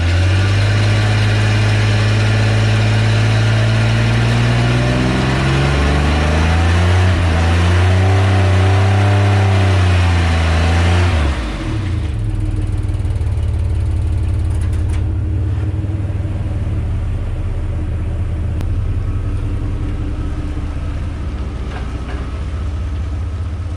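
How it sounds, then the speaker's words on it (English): A cheap $500 work truck engine revs hard during a burnout, loud and close, its pitch climbing and wavering for about ten seconds before dropping off to a rougher idle with mechanical rattles. "can it do a burnout?"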